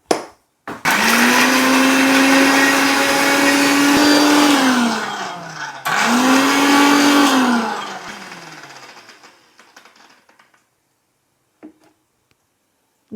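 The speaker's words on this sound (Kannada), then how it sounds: "ಸೊ ಜಿಂಜರ್, ಪೀಲ್ಡ್ ಆಗಿರೋ ಗಾರ್ಲಿಕ್, ಗ್ರೀನ್ ಚಿಲ್ಲೀಸ್ ಗ್ರೈಂಡ್ ಮಾಡೋದು ಇವಾಗ" Kitchen blender grinding ginger, peeled garlic and green chillies, a loud steady whir in two long runs, the motor pitch sagging as each run winds down, then quiet with a few faint clicks.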